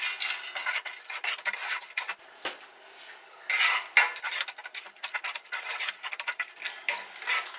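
Pine nuts rattle into a hot pan of olive oil and are stirred, giving scattered clicks and scraping clatters of nuts and utensil against metal, close and fairly quiet, with one sharp knock partway through.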